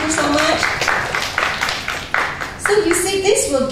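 An audience at a student engagement teaching webinar claps for a participant, a dense run of overlapping claps lasting a few seconds with voices talking over it.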